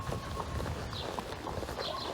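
A ridden horse during a riding lesson, its hooves giving a soft, steady clip-clop at close range over a low background.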